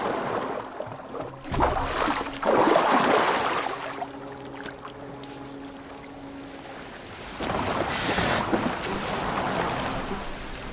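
A boat sails across open water in Assassin's Creed Valhalla, with a steady wash of water and wind running throughout, swelling louder near the start and again toward the end, with a low sustained tone in the middle.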